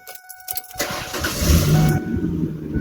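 A Ford 4.0 liter engine that runs rough and misfires cranks and catches near the start. It then settles into a loud, uneven running rumble that eases slightly toward the end.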